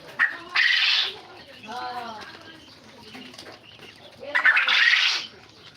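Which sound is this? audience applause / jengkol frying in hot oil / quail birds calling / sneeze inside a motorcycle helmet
quail birds calling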